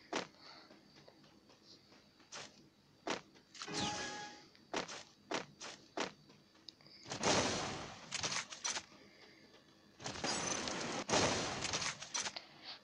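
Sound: gunfire in the video game Free Fire

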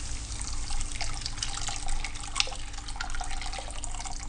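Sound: pouring boiling water into pan

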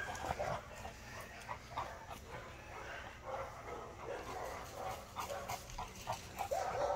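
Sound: dogs

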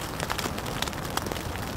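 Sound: rain falling

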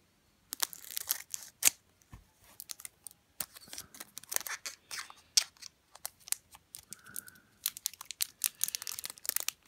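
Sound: cutting open the top of a Pokemon Neo Genesis booster pack

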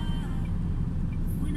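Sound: truck retarder slowing the truck

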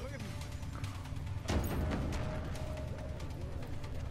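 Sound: grenade explosion in video game Deus Ex Mankind Divided

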